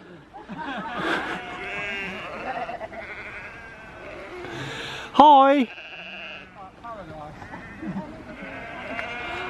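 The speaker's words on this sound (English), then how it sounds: "Friends, if you like sheep, this is the place." A flock of sheep bleats in overlapping wavering calls, one loud close bleat standing out midway, while a person talks and greets over the noisy crowd of animals.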